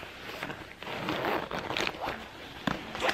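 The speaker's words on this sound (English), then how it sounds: "And this is the zipper" A zipper on the black interior of a YSL medium puffer bag slides along in a short, soft, close rasp, with faint handling scrapes around it.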